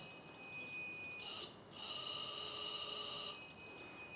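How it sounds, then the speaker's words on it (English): Hydraulic pressure alarm on a 1/14 KCK RC Terex TFC45 reach stacker, a steady electronic high-pitched tone that briefly drops out, then resumes with a hum beneath, fairly quiet and close. "So this one, that's the hydraulic pressure alarm, also can set in from the board"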